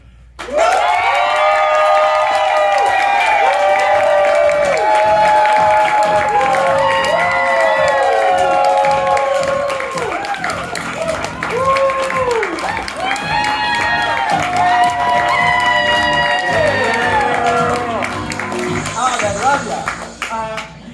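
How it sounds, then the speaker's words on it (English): Audience at an improv theater showcase applauding and cheering, loud and sustained with dense clapping, whoops and shouts throughout, easing slightly near the end. "we're going to welcome them with a really warm round of applause."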